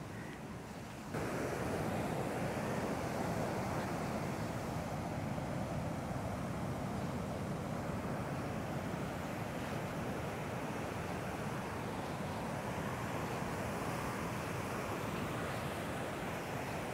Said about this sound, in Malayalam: ഇവിടേക്കൊക്കെ ശരിക്കും നല്ലോണം വരുന്നുണ്ട് കടൽ